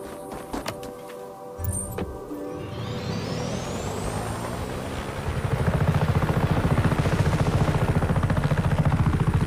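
Gameplay from Just Cause 3 on PS5: a helicopter's rotor spins up and settles into a loud, fast, steady chopping thrum with engine whine, preceded by brief clanks and bursts of action.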